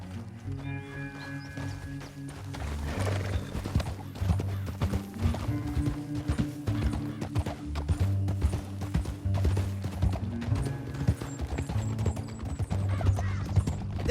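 Rhythmic hoofbeats clop along steadily under a dense, loud musical score, with a horse galloping the whole way through, in Red Dead Redemption 2.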